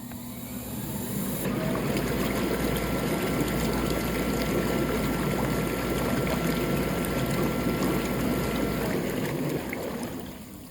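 Churning, bubbling water from the air jets of a Penner spa bathtub, air-driven rather than whirlpool, running steadily and loudly for several seconds before easing off at the end.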